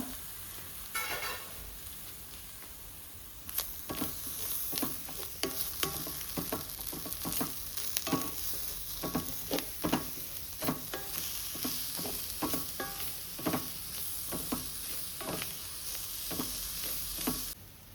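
Chopped tomatoes fry in a pan for mushroom xacuti with a steady sizzling hiss and frequent scraping stirs from a utensil, close up and continuing throughout, the hiss getting louder after the first few seconds, with no talking.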